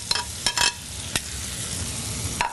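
Half a stick of butter cooks in a pan with bacon and shallots added back in, giving a steady close sizzle broken by a few sharp scraping bursts of stirring.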